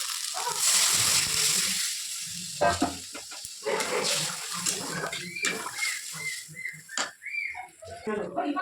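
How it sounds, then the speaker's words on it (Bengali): Water is poured into a cooking pot of spiced potatoes already mixed with salt and turmeric, with splashing and pouring at first, then intermittent clinks and stirring scrapes at moderate level. "এবার আমি জল দিয়ে দেবো"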